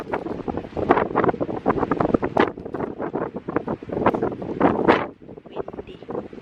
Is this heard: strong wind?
yes